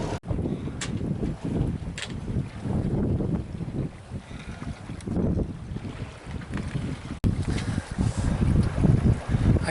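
Sailboat underway leaving Nuku Hiva, with gusty wind buffeting the microphone and water rushing along the hull, a rough, fluctuating roar throughout, briefly cut at one point.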